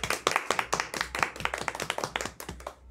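Hand clapping at the close of a Portuguese-language podcast, a quick run of sharp, close claps from a small group lasting a few seconds with no talk.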